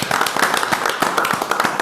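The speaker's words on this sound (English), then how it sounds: "I think that deserves a round of applause." Clapping from a council meeting audience honoring a retiring alderman and firefighter after 40 years of service, a short burst of scattered hand claps at moderate loudness with no talk.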